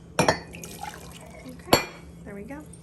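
Liquid is poured into a mug, with a couple of sharp clinks of glass or ceramic and a soft trickle between them, close up in a quiet kitchen.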